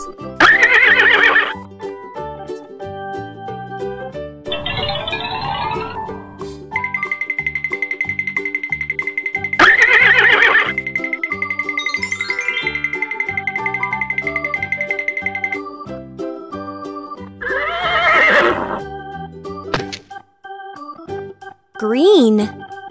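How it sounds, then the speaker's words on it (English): A horse neighs in loud, shaky whinnies repeated several times, with hoof clip-clops and a bright, playful musical backing running throughout in a children's learning song. "Horse."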